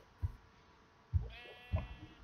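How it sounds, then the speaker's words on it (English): A sheep bleating three times in open countryside, each call short and moderately close, spaced about a second apart over quiet background. "I see another sheep."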